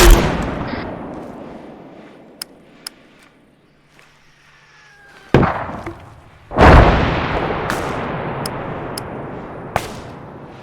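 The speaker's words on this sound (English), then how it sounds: "I'm launching a rocket into the town." A rocket launched into a town in a video game: a sharp, loud blast followed by a long, rumbling roar, then a second heavy explosion and scattered distant gunshot-like cracks, with no one speaking.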